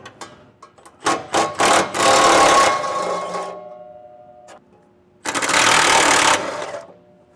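Bolts on a truck's heat shield being loosened with a 13mm socket on a ratchet or power tool, sounding as two loud bursts of whirring and rattling separated by scattered clicks and metallic taps.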